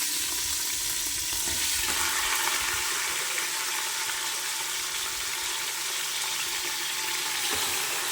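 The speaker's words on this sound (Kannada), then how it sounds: "ಇವಾಗ ತೊಳೆದಿರೋ ಅಂಥ ಮಟನನ್ನು ಹಾಕ್ತಾಯಿದ್ದೀನಿ." Washed mutton, about 2 kg, goes into a hot pot with garden mint and hisses into a loud, continuous sizzle, with a few faint stirring sounds.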